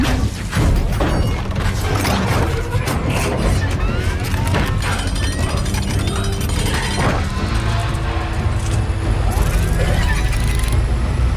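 Optimus Prime, the truck robot from Transformers, transforming: dense mechanical clanks, crashes, whirs and metallic impacts pile up loudly and continuously, layered with booming cinematic effects and background music throughout.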